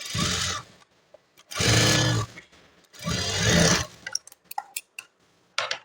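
A sewing machine stitches the front panel of a plain blouse in three short bursts of about a second each, close and loud, followed by scattered clicks and handling sounds as the fabric is adjusted.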